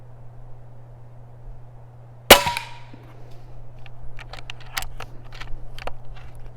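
An Umarex Origin .22 air rifle fires once at an outdoor target: a single sharp, loud crack with a short ringing decay. A few faint small ticks follow over a constant low hum.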